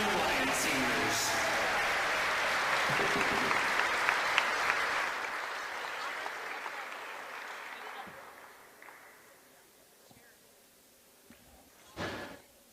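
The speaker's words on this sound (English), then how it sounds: "one more round of applause for the 7 Panther seniors and the 5 Blue Lion seniors." A high school volleyball gym crowd applauds the senior players of two teams, loud sustained clapping and cheering that gradually fades out, followed by a brief thump near the end.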